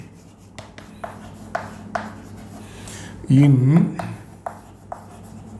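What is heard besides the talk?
writing formulas on a board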